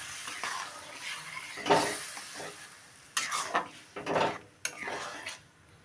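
Boiled chana dal, potol and potato going into a simmering masala, with scraping spoon strokes and clinks of utensil on pot in several close bursts, a soft sizzle beneath and brief quiet gaps between.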